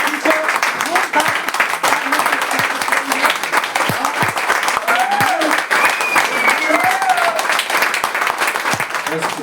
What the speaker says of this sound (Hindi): चाहूंगा एक जोरदार तालियों से आप उनका स्वागत करेंगे।